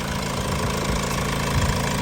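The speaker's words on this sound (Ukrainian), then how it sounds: "мотор працює чітко, рівненько, ніяких посторонніх звуків немає" A Honda CR-V 2.2 i-DTEC diesel engine with manual gearbox and all-wheel drive idles close up, a steady, even clatter and low drone without breaks or voices.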